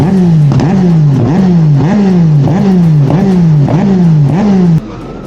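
Motorbike engine revving hard at a biker festival in Portugal, loud and close, climbing and dropping in about seven rhythmic rev cycles before cutting back to a lower idle at the end.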